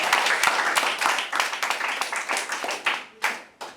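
Clapping from students at an intraschool debate at a school in Lagos, a scattered round of hands that thins out into a few separate claps near the end, moderately loud.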